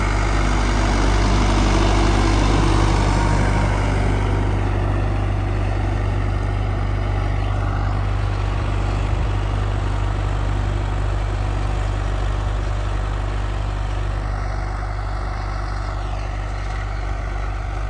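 A farm tractor idles in place, its engine giving a loud, steady low drone and vibrating hum that holds constant throughout with no revving, heard up close and alone.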